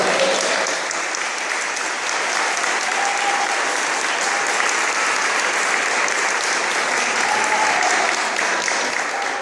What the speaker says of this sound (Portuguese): Você pode aplaudir esse negócio?